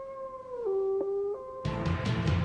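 Hounds howling in long sustained wailing tones that bend and drop in pitch, joined near the end by a louder burst of broadband noise.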